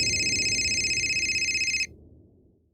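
A telephone bell rings in a rapid repeating trill for under two seconds, then cuts off abruptly, leaving a low room hum.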